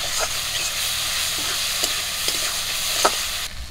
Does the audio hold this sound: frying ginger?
yes